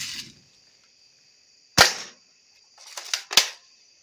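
An airsoft gun fires at random targets, giving a few sharp, snappy shots with brief gaps between them, close and fairly loud, with no talking.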